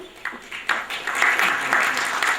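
An audience at an award function in New Delhi claps for an honoured guest; a short, lively burst of many hands, close and dense, with no talking.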